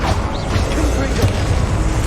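A Confringo spell explosion in the Hogwarts Legacy video game, a short, loud booming burst with crashing debris over a thick, continuous layer of game noise.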